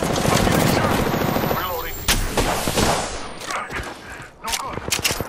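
Rapid, loud bursts of weapon fire crackle through an Apex Legends match on PC, with dense overlapping shots early on and sharper, scattered reports toward the end.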